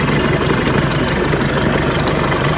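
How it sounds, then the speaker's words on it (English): A Nissan X-Trail with a boost problem idles close by, its engine a loud, steady, slightly rough low rumble throughout, with no talking. "It's not the healthiest sounding engine in the world"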